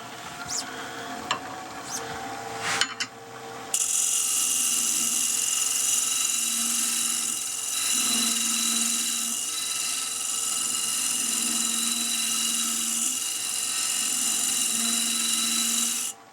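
A power woodworking tool shapes a taper on a walnut box part. After a few brief knocks it sets into a steady high whine, with a lower tone swelling and fading as the cut goes on.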